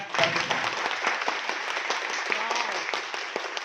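A seminar audience applauds steadily, many hands clapping together in a dense, even wash of sound that holds for a few seconds.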